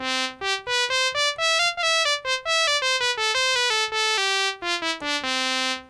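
Moog Minimoog synthesizer on its trumpet preset, playing a quick melodic run of bright, buzzy brass-like notes that step up and down in pitch, clean and alone with no talk.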